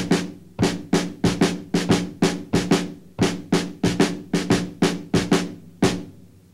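Sharp snare drum strokes come in a steady syncopated pattern of close, crisp hits with short gaps and no voices.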